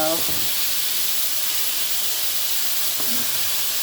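Peppers cooking in a pan give off a steady, loud steaming hiss that holds level throughout, with a faint brief clatter near the start.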